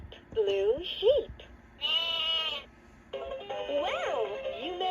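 Sheep sound from a Leapfrog Fridge Farm magnetic animal toy (2007 version): wavering electronic bleats, one sustained baa among shorter calls, close and thin through a toy speaker.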